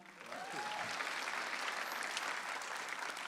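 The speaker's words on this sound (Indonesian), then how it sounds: "beri tepuk tangan dulu buat mantan juri kita, Raditya Dika." A live comedy audience claps for Raditya Dika at a stand-up roast show, a dense, steady burst of applause from a crowd filling the room.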